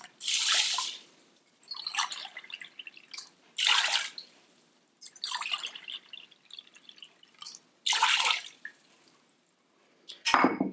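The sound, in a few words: pouring water into pot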